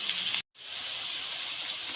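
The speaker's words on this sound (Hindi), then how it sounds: "1/3 कप के बराबर मैंने पानी ऐड किया है इसके अंदर।" Water is poured onto a spice-coated plate while preparing cumin potatoes, making a steady hissing splash that breaks off briefly and then resumes, close and alone.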